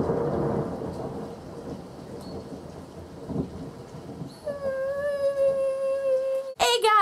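Steady rain hisses throughout, with a low rumble of thunder, a drawn-out wavering tone later on, and a sharp thunder crack just before the end.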